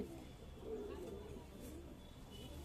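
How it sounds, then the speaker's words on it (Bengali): Pigeons coo softly in a home loft of paired breeding birds, the low calls faint and intermittent beneath someone talking nearby. "আপনারা চিনতে পারছেন বন্ধুরা কি জাতের কবুতর আমার কাছে রয়েছে"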